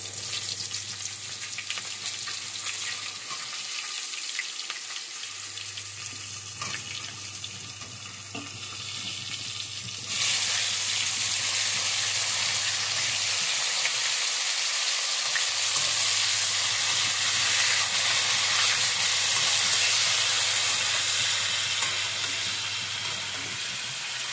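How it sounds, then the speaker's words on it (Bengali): Cauliflower pieces frying in leftover fish-frying oil, a steady sizzle that jumps louder about halfway through, with a low hum coming and going underneath. "এই তেলের মাছ ভাজা তেলেতে আমি কপিগুলো ভালো করে ভেজে নেব লাল লাল করে"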